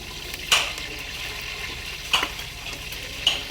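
Green chillies frying in oil for Rayalaseema-style chicken biryani, a soft continuous sizzle with three brief sharp crackles spaced about a second and a half apart.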